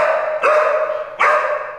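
A dog lets out two loud, close barks about three-quarters of a second apart over a low background hum in a tense film scene.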